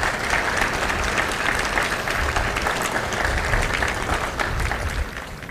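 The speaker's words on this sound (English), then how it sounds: "Ladies and gentlemen, a round of applause for our recruiters and our combat instructors." Sustained, dense applause from a large crowd at a Marine Corps recruit graduation at MCRD San Diego, honoring recruiters and combat instructors, steady and loud throughout before easing slightly at the end.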